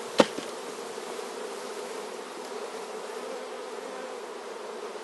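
Honey bees swarm around an opened hive in a steady close buzzing hum, with a single sharp knock near the start.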